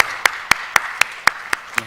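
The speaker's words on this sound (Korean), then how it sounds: "우리 박수로 다시 한번 축복하겠습니다." A church congregation claps in a slow, steady rhythm during a worship service, about eight distinct claps evenly spaced, moderately close and clear over quiet background.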